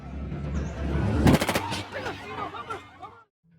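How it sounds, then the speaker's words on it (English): Police gunfire in a dramatic film scene: a short, sharp burst of rapid shots rings out, followed by a voice speaking. "when Kevin tried to escape, the police shot him dead"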